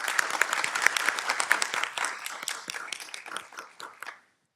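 An audience at a civic Unity Through Diversity event applauds after remarks by a city manager, a dense burst of clapping that thins out and stops abruptly after about four seconds.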